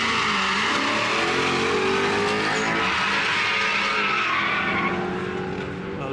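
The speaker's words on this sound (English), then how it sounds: "A lot of wheel spin from the Caddy." A stock-engine 1.8 20V turbo AGU Mk1 VW Caddy spins its tyres at launch, a loud sustained scrabbling tyre squeal over a roaring, revving engine that holds steady before easing slightly near the end.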